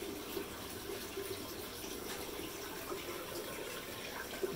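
Water from the return runs steadily into a 240 gallon aquarium, a continuous faint splashing and trickling hiss with no talk.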